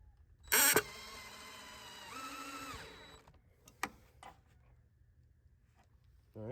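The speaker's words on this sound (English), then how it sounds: "I'm gonna be pressing pretty hard drilling this in" A power drill drives a screw into a wooden planter: a sharp burst of whirring near the start, then a longer, rising motor whine under pressure, followed by a few small clicks and knocks in a quiet room.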